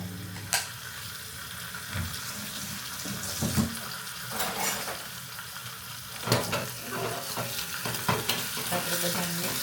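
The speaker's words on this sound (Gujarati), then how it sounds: "તો બધાનો વઘાર કરી નાખ્યો" Bottle gourd and potatoes tossed into a hot tempering in a pan, giving a steady loud sizzle and frying crackle with scattered stirring clatter and sharp bursts throughout.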